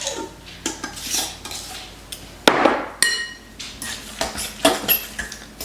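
Sandwich filling of corned beef with Worcestershire and ketchup being stirred in a bowl, giving repeated scraping clinks of a utensil against the dish with a few sharper knocks, close and clear with no talking.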